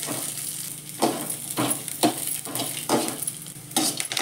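Garlic and curry leaves roast in a pan, a soft sizzle punctuated by a series of regular scraping stirs about every half second, fairly quiet and close.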